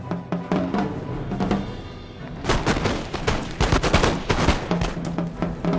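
Musket volleys in Empire Total War, dense rolling crackles of many shots, a lighter scattered burst first and then a heavier sustained fusillade after a brief lull.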